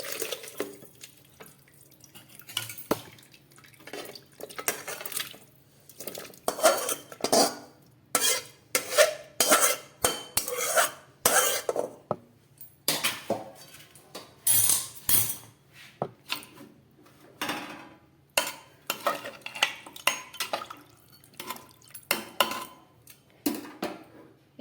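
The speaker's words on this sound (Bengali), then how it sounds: "কুকার নিয়ে নিচ্ছি, আমি তার মধ্যে এগুলোকে ঢেলে দিচ্ছি।" Ingredients being poured and scraped into a pressure cooker, with repeated clattering of a utensil against metal, splashing of liquid and knocking of dishes in bursts spread over the whole stretch, with no talking.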